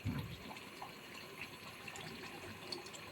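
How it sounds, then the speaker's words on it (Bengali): Hot water poured from a pan into beef and potato curry as it cooks, a steady close liquid pour and splash running throughout without talk. "তো এখন আমি গরম জল দিয়ে দেবো, দিয়ে দিলাম"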